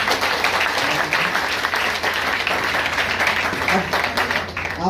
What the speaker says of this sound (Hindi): तो इनके लिए तो एक जोरदार तालियां बनती है।